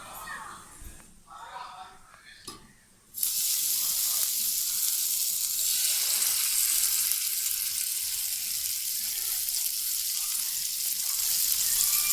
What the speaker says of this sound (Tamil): தவா வச்சு அதில் கொஞ்சம் ஆயில் நம்ம ஊற்றிக்கின்னு இப்போ வந்து மீனை வந்து நம்ம வறுக்க போகிறோம்.